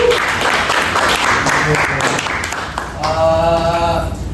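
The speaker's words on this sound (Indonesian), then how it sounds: "kita beri tepuk tangan dulu untuk ketua kelas." A primary school class applauds its class leader, a loud, dense wash of clapping that continues as voices rise over it toward the end.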